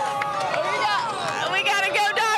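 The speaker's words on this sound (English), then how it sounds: "We got a Go Dogs cheer going on." Fans on a bus outside Phoenix chant a Go Dogs cheer, many overlapping voices shouting together close by in a loud, excited crowd.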